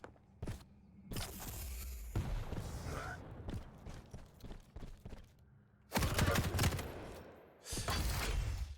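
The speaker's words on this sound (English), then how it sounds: "Both dishing out some damage with the machine guns." Bursts of machine gun fire in a video game duel, several loud rapid volleys separated by quieter gaps with scattered shots and mechanical clatter.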